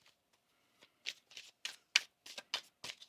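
A tarot card deck shuffled by hand, a run of about seven crisp riffling bursts that come faster after a quiet start, close and clear with no talking.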